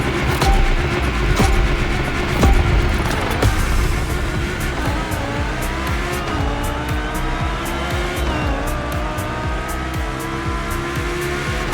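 Audi R8 Spider engine roaring through a race in The Crew Motorfest, a loud steady drone with rising and falling revs, gear shifts and brief tire squeals, continuous and close throughout.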